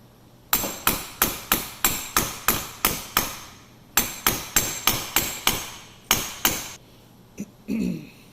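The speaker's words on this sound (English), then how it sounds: "I'm using it as a buffer so I don't hammer on my new bearings" Hammer blows driving a new bearing into the hub of a Massey 300 combine, with an old bearing used as a buffer. Two sharp, evenly paced runs of about twelve metallic strikes ring close and loud, followed by a brief clatter.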